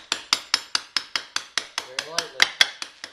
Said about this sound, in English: Hammer lightly.